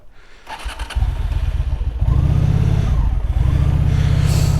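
Motorcycle engine running after a repair job, with a fault causing a fuel leak, stuttering into a steady, loud, close thumping idle with a slight rise in revs partway through.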